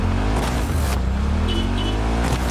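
Car in the video game Cyberpunk 2077, a loud engine drone with rising revs and a passing rush, close and continuous with no talk.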